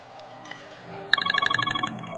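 A phone ringtone starts abruptly midway, a loud rapid electronic trilling melody following a quieter stretch with faint background sounds.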